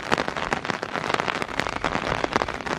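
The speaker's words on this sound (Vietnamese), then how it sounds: "đồng thời mưa cũng lên luôn" Heavy rain pours down steadily on a mountain campsite in a field of pink grass, a dense, close crackling patter with no voices.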